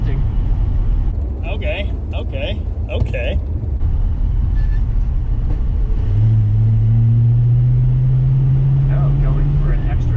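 A 1949 Studebaker Champion, running again after 20 years with bad brakes and a crappy clutch, drives along under steady engine rumble that rises into a strained, climbing drone partway through, with a person speaking briefly over it.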